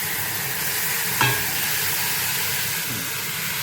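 Lentils and onion frying in a pan, a steady loud sizzle with a brief clatter of stirring partway through and no talk.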